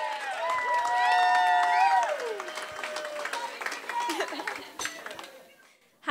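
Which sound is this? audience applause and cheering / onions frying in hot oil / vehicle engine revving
audience applause and cheering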